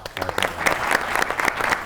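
Studio audience applauding a singer on a comedy talk show, steady dense clapping filling the room alone for a couple of seconds.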